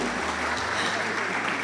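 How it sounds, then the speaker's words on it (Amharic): An audience applauds at the final round of a poetry competition on a stage at Arada Park. The clapping is dense and steady throughout, with a voice partly audible beneath it. "ለኔም አጨብጭቡ እንደው"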